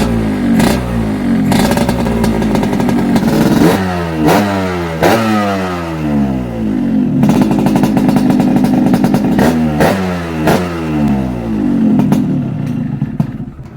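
A motorcycle engine with a faulty carburetor revs hard and loud several times, its pitch sweeping up and down in repeated surges with clattering, uneven bursts, up close and with no speech.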